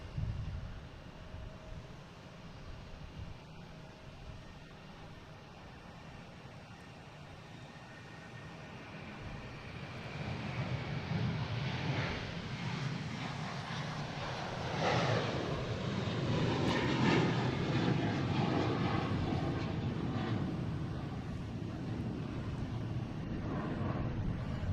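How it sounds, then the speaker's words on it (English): An American Airlines Airbus A321 taking off from Boston Logan, a roar that starts moderate and swells loud and broad about halfway through, then holds steady with no voices. "Next taking off is American Airlines. An A321."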